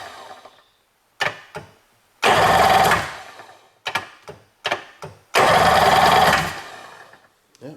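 A 1992 Sea-Doo XP personal watercraft engine cranks over in repeated bursts, short stabs and two longer whirring spins separated by silence, close and fairly loud with no running catch.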